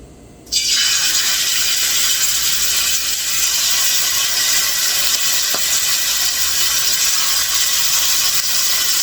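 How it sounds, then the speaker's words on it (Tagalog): A sudden loud, steady sizzle starts after a brief quiet moment and continues as a constant bright hiss of beef steak frying in a pan. "prito muna natin ang ating beef"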